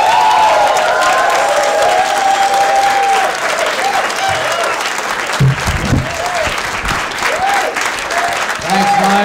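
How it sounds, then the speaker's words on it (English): A studio audience at a 1986 comedy show applauds and cheers for a comedian, a loud, sustained roar of clapping with whoops over it, easing slightly in the latter half while a voice speaks over the crowd. "a nice round of applause for Mr. Tom Gilmore"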